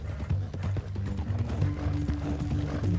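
Horse hooves clip-clop in a steady, close, moderately loud rhythm during a Red Dead Redemption 2 ride with a prisoner tied on horseback, along with faint mechanical creaks and no talking.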